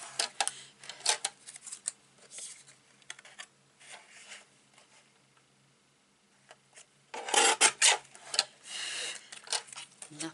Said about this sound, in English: we're going to cut some smaller strips now for these